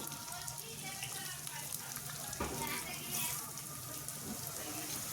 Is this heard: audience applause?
no